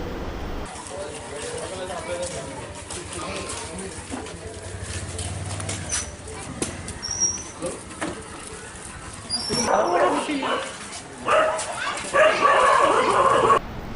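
A police sniffer dog barks and yips repeatedly during a search operation in Vanarapet, Pondicherry, with the barks moderately close and heard under ongoing talk and background noise.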